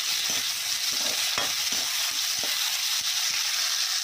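Small potatoes and a tomato frying in a pan, a steady loud sizzle with occasional soft stirring knocks, close up and with no talking.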